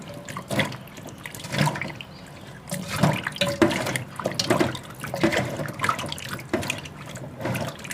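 Cut potatoes for french fries are rinsed in a third change of water, with close splashing, sloshing and swirling in uneven surges and no talk.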